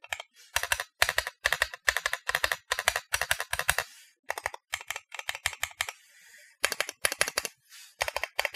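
Rapid bursts of typing on a Voyager 68 aluminium-case keyboard with pre-lubed Gateron Pro Yellow switches, close and crisp, coming in clustered runs of keystrokes separated by brief pauses.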